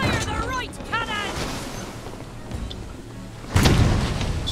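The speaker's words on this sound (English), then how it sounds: "Fire the right cannon!" Right-side ship's cannon fired in the pirate naval game Blazing Sails: a single heavy boom near the end, preceded by a busy mix of game effects and chatter.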